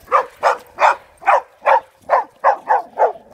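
A dog newly arrived at its home, out on a walk with its anti-bark collar switched off, barks about nine times in a steady, evenly spaced rhythm, close and loud.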